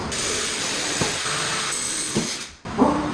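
A steady power drill whines continuously for a few seconds while drilling a hole in a wall, briefly cutting out near the end before starting up again.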